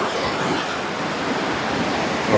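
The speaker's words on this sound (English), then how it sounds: "Beautiful creek." A canyon creek in the Bighorn Mountains rushes in a dense, steady broadband wash, close and continuous with no voices.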